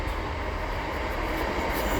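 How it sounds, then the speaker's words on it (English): A train rumbles past nearby as a steady, broadband roar that holds at the same level for the whole two seconds, with no voices. "frickin' trains"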